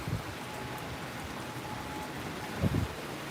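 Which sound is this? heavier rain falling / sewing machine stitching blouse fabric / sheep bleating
heavier rain falling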